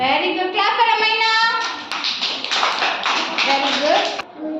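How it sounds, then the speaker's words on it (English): Pre-primary schoolchildren in a classroom clap for a classmate, a dense, bright patter of many small hands mixed with children's voices and chatter. "Clap for Amina."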